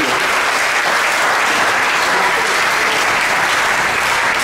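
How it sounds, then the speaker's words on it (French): Sustained applause from a church congregation during a service, a dense, steady wash of many hands clapping close by for the whole stretch, with no talking over it. "Can we clap once more for Jesus?"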